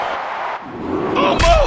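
A short, heavy body slam from an inverted exploder suplex by Charlotte Flair in WWE Mayhem lands as a single low thud near the end of a brief burst of game noise.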